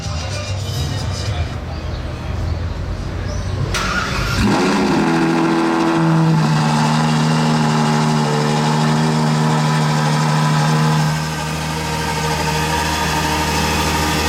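A Ferrari 812 Novitec N-Largo engine cranks and fires up loudly nearby, settling into a rumbling, slightly uneven idle that hums on for several seconds.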